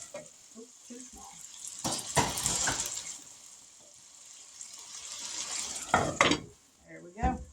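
Sliced potatoes fry in a pan, giving a loud crackling sizzle that surges in waves, with clattering as a lid is fitted on and brief speech over the cooking.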